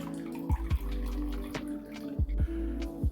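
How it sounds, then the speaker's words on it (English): Cherry juice drains from a jar in intermittent drips and small splashes, quiet and close, with irregular drops landing among a low trickle. "We want to drain this juice out"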